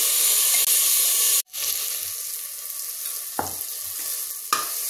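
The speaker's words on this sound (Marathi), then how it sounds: "आता या दोन्हींना आपल्याला छान परतून घ्यायचंय।" Onion and tomato sizzle while being sautéed in a pan, a steady loud frying hiss broken by a few clattering scrapes and knocks of stirring.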